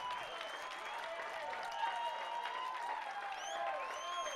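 A baseball crowd at a Team Canada junior men's game against Mexico claps and cheers after a hit up the middle, a steady distant wash of applause and whistles filling the whole stretch.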